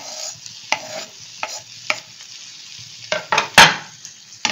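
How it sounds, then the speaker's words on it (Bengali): Thinly sliced capsicum for paneer do pyaza hits a frying pan, giving a series of short sizzling bursts and spatula scrapes, ending in a louder hissing flare. "আমি ক্যাপসিকামটাও এর মধ্যে দিয়ে দিলাম।"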